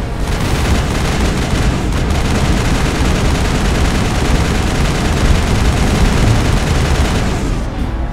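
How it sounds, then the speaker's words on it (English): Dense, sustained gunfire from the Mass Effect video game, a continuous loud barrage of rapid shots and heavy booms running the full length without a break. "Shooting at someone."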